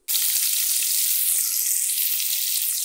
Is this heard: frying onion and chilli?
yes